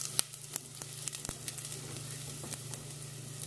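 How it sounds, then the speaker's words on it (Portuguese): Garlic sizzling as it browns in a pan on a home stove, a soft steady crackle with scattered pops and a low background hum, no talking. "Só com alho. Dourar bem aqui, tá?"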